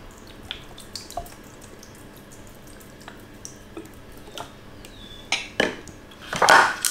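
A utensil mixes lemon juice into a fruit coulis in a bowl, soft clinks and taps that build into denser, louder scraping at the end, heard close with light dripping.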